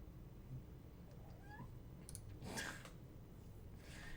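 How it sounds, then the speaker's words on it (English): A new pet kitten meows a few times, faint short calls standing out against steady indoor background noise, with no one talking. "And the kitty likes to meow a lot."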